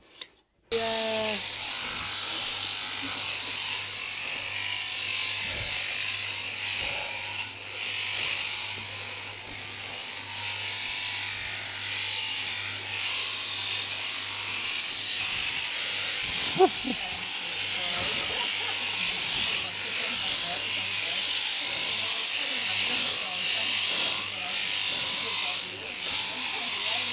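Electric shears buzz steadily and closely for the whole stretch while trimming the wrinkly neck of a sheep during a gentle shearing, with a brief louder snag partway through and no break in the motor's hum.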